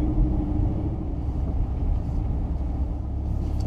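Lamborghini Huracan engine droning steadily from inside the car while a young driver cruises, a constant low rumble with no clear revs, fairly close and with no voices over it.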